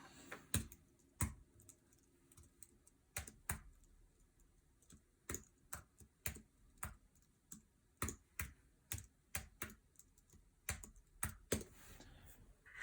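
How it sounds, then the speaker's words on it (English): Sharp plastic key clicks in uneven bursts as numbers are punched into a calculator while working out frame dimensions, close and dry in a quiet room with no talking. "Now I'll type this into the calculator as well."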